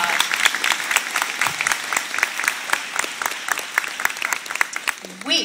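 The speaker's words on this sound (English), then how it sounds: "Let's give them another round of applause." Audience applause at a second-grade school assembly, a steady wash of many hands clapping throughout, fairly close and loud, with a voice starting to speak at the very end.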